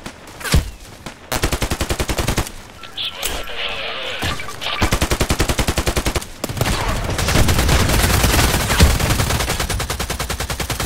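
SAR rifle fire in Contract Wars comes in loud, rapid automatic bursts separated by short gaps, with some clatter and impacts mixed in and no talking over the shots.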